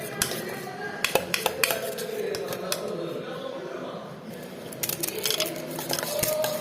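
Gram flour batter is whisked in a bowl, giving repeated clinking and tapping of a utensil against the sides with soft wet squishing in between, loudest in quick bursts near the start and end.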